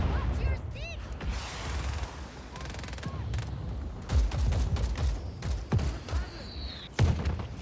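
Large mounted guns at a beachhead in a Just Cause game, heard as repeated heavy shots and booms over dense battle noise, with a few loud close blasts toward the end.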